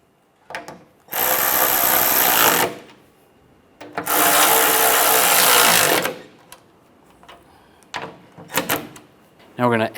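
A ratchet tightening the valve cover bolts on a 1996-2002 Toyota 4Runner: two loud bursts of rapid clicking, each lasting about two seconds, with softer scattered clicks and clunks between and after them.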